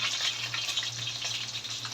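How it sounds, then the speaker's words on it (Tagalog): Steady, close-up sizzling of chicken frying in hot oil, a dense crackling hiss with a low hum underneath, continuous and fairly loud. "patapos na kami mag-prito"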